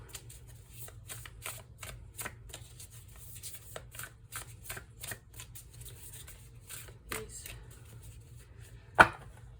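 Tarot cards shuffled by hand in a steady series of quick crisp riffling taps, close and fairly quiet, ending with one sharper slap of a card.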